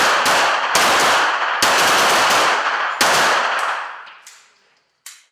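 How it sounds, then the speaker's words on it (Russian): Rapid bursts of gunfire at a police shooting competition, several loud close volleys fired in quick succession before tapering off, with one last short shot near the end. "Вторая часть соревнования представляла собой стрельбу из 2 положений."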